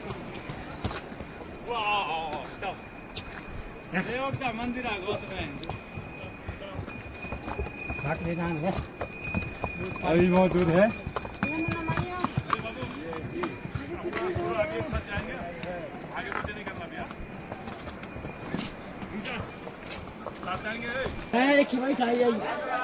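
Horse hooves clip-clop along a steep, dangerous mountain path on the way to Yamunotri, in a steady irregular patter beneath people talking nearby throughout.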